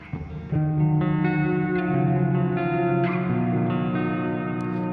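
Electric guitar notes ring through a NUX Verb Core Deluxe pedal set to plate reverb with decay maxed, sustained chords overlapping into a thick woolly wash that lingers behind each change, loud and alone.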